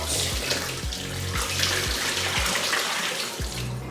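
Vinegar descaling water being dumped out of a kettle into a sink, a continuous splashing gush with rhythmic glugging pulses, close and fairly loud throughout.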